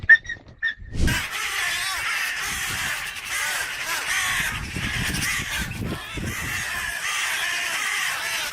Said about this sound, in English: This sparrowhawk learned its lesson the hard way after getting mobbed by a crow for attacking a jackdaw.